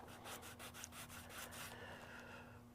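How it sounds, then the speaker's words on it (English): A sanding stick rubbing nubs off plastic model kit parts, a quick series of soft rhythmic scrapes close up that fade into quieter strokes, over a faint steady hum. "It's also important to have a sanding stick around"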